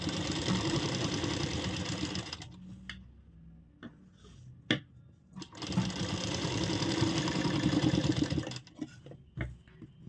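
Sewing machine running in steady bursts while topstitching fabric, a fast mechanical whirr that stops twice for a few seconds with small clicks and handling noises in between, close and fairly loud.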